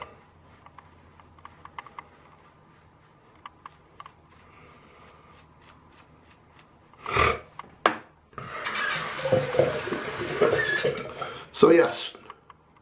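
A turned badger-hair shaving brush scrubs lather onto a beard with a loud, bristly rasping that starts after a few soft clicks, swells and continues close-up for several seconds before ending abruptly.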